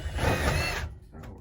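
A screwdriver drives self-tapping screws into a metal wood-stove chimney pipe on a sauna roof, a short grinding, whirring burst that stops abruptly, followed by a faint mechanical tail.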